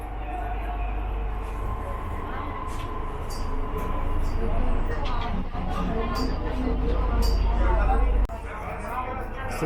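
Delhi Metro Yellow Line train rumbling steadily at a station, with a low continuous drone, brief squeals and clatter, and a sharp drop near the end, while voices and crowd babble sound faintly in the background.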